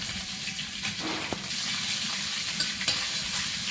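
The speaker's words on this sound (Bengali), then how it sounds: "কড়ার মধ্যে একটু তেল দিয়ে দেয় একটুখানি জিরি কাঁচা জিরি আর একটুখানি আদা বাটা" Cumin seeds and ginger paste frying in oil in a karai, a brief burst of sizzling with stirring scrapes, loud and close.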